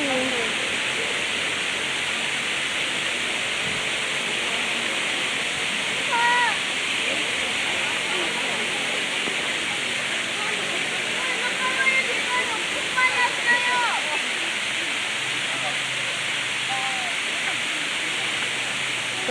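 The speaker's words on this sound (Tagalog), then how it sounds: "Oslob Waterfalls. Ayan. Ang ganda. Waterfalls ng Cebu." Oslob Waterfalls in Cebu, Philippines, a steady roaring rush of falling water throughout, with brief voices of people talking faintly over it at moments.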